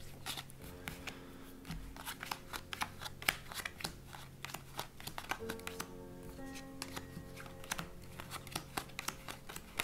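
Playing cards are handled and sorted into red and black piles for a magic trick, giving soft, quick riffles, slides and taps close by at low volume, with brief flicks scattered throughout.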